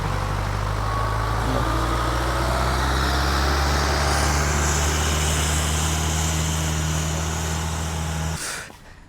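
A tractor's engine runs steadily while hauling a fishing boat up onto the shore: a loud, continuous low drone with a deep throb that holds for about eight seconds, then cuts off abruptly.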